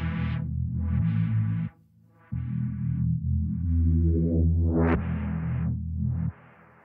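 A synthesized mid bass built from saw waves with seven-voice unison, distortion, reverb and a shaper, playing several sustained harmonically rich notes with one rising sweep, loud and alone, for dark liquid drum and bass.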